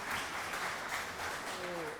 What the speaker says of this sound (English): please give a huge round of applause for Dr. Rajiv Kumar Mehajan